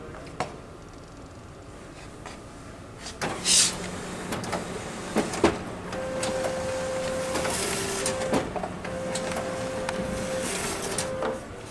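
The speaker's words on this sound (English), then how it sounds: "Click, you can see the printout coming." A Sharp photocopier prints a machine status report, a steady mechanical whir with sustained tonal hums and feed clunks, close and fairly loud, with no talking.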